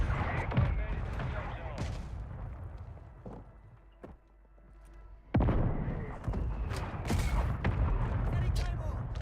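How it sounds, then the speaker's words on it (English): Mortar strike explosions in a video game battle bring dense, loud booms and rattling gunfire that dip into a brief lull before surging back, with game voices mixed in. "Friendly mortar strike inbound."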